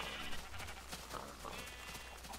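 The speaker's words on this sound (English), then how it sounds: "Yes, even you, Mr. Sheep, over in the distance." A sheep bleats faintly in the distance in the Minecraft video game, a few short calls over steady background ambience and game noise.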